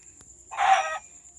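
A chicken in the mobile game Minecraft PE gives a single short clucking call, heard alone and fairly clear, lasting about half a second.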